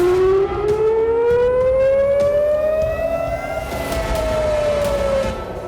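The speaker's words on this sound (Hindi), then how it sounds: "और इजराइल में सायरन गूंजते रहे।" Air raid sirens wail across Israel: one loud, continuous siren tone climbs slowly in pitch, then dips again, steady and unbroken throughout with no voices.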